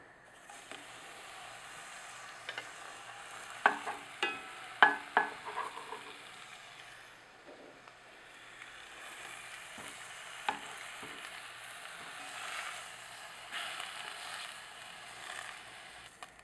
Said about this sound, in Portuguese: a gente esquenta bem aqui a panela, a frigideira, coloca um fiozinho de azeite de oliva